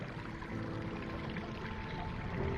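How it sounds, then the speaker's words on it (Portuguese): A boat propeller churns water overhead with a steady, dense rush of turbulent sloshing that stirs up river silt, staged as an audiodrama underwater effect with no pauses or voices. "As pás da hélice de um barco agitaram a água sobre mim, revirando o lodo ao redor."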